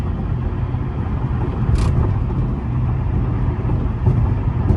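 Steady low road rumble of a lowered Infiniti G37 driven slowly and carefully, the engine and tyre noise holding even and close throughout with no one talking.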